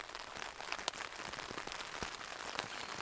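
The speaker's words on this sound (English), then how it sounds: "There's something nice about listening to rain" Steady rain patters on a tent during a windy, wet solo camping trip, a dense continuous hiss with occasional louder drops striking the fabric close by, alone without voices.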